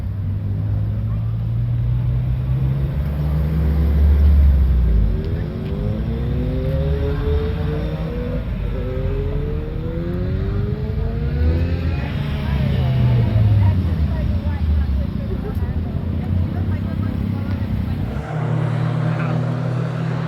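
A Mazda MX5 race car lapping the Nürburgring, its engine note climbing and dropping through the gears in a steady, fairly loud drone, with voices over it for much of the time.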